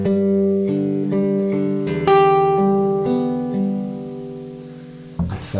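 Fingerstyle acoustic guitar picks out the opening bar of a song, close and unaccompanied, with a bass note under plucked melody notes in a slow, steady rhythm, ending with a brief muffled handling sound.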